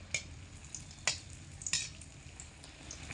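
Poa pitha, round puffed Bengali flour cakes, fry in well-heated oil with a soft continuous sizzle, broken by a few sharp crackles and stirring clinks, close and quiet with no talk.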